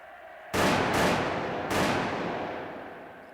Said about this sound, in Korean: 세계를 놀라게 한 총성이 울려 퍼졌고